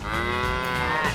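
A cow moos in one long, loud, steady low call that fills the whole moment.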